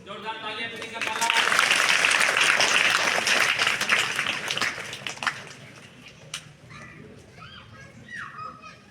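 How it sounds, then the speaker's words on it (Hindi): Audience applause at a school award ceremony honouring class 12 students, a dense, loud burst of clapping that swells early, holds for several seconds, then fades into scattered claps and children's voices. "जोरदार तालियां प्रियंका काला।"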